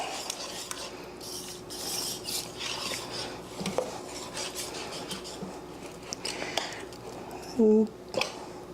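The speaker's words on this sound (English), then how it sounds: "Just give it a quick stir" South Carolina hash being stirred in a pot, soft scraping and rubbing of a utensil against the metal with occasional clinks, quiet and close, with a person talking alongside.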